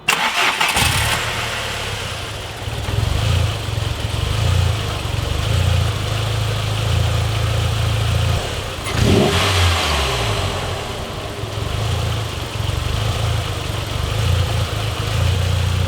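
VW MK4 Golf engine with a front-mount intercooler, running steadily for most of the stretch, then revved briefly near the middle with a quick fluttering turbo whoosh before settling back to idle; loud and close, no talking.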